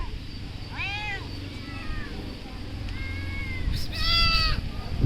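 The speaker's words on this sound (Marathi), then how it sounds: "हे बघा मांजर क्यूट क्यूट." A cat meows several times with a few short, rising calls spread across the clip, over a steady background hum of voices and outdoor noise near a temple on Ashadhi Ekadashi.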